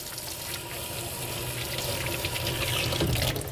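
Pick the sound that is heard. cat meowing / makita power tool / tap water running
tap water running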